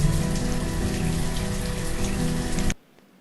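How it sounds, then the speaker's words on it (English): Steady rain pours in the city-building video game Banished, a dense, even hiss of falling drops that holds at constant loudness, then cuts off abruptly near the end, leaving near silence. "Oh, and it's starting to rain, not very good."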